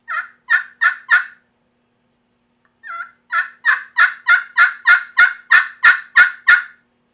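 A ROOST EasyStrike pot call is scratched to imitate turkey yelps, first a short run of four and then, after a pause, a longer steady series of about a dozen, loud, close and alone.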